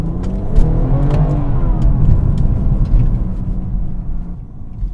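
A tuned Dinan 2016 BMW 340i xDrive with over 400 bhp accelerating hard, a loud close engine roar climbing in pitch through the gears with brief shift breaks, then easing off at the end.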